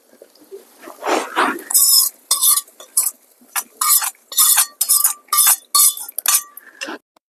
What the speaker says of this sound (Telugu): తాలింపు పప్పులో పోసుకుందాం.